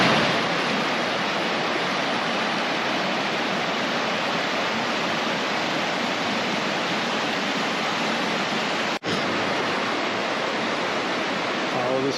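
A stream in Shenandoah National Park rushes steadily with a loud, constant broadband flow. It is close by and continuous, with only a momentary dip partway through.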